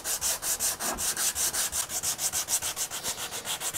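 Rhythmic back-and-forth sanding of guitar-body wood bevels with 80-grit paper on a firm sanding block, even scratchy strokes repeating about five times a second, close and loud.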